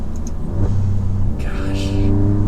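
Tuned 600 HP Alfa Romeo Giulia Quadrifoglio engine in race mode, a steady loud rumble with a brief rise in revs partway through, heard from inside the car.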